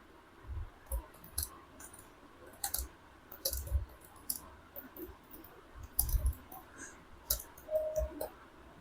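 Sparse, quiet clicks from a computer keyboard while C code is typed, irregular taps and short bursts spread across the stretch with no voice.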